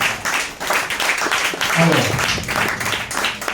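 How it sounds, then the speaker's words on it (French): An audience at a talk on living under constraint in Cuba applauds a speaker, a moderate, steady wash of clapping under a voice. "vous applaudissez, c'est pour lui"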